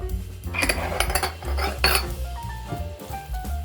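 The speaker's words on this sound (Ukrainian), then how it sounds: "Вимішую тісто добре лопаткою." Clattering and scraping of a spatula against a bowl, close and busy, with rhythmic knocks as thick potato-based dough with oil is stirred.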